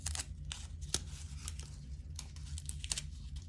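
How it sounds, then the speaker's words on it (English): Pieces of tape being torn and handled during a craft project, giving a string of close, crackly rips and crinkles at an uneven pace. "I'm just using about 2 pieces of tape for each."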